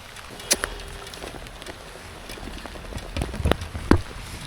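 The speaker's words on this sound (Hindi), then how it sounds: "बारिश देखो कितनी ज़बरदस्त हो रही है" Heavy monsoon rain pours during a motorcycle ride, a steady dense hiss with scattered taps and thumps that grow busier toward the end, with no talk.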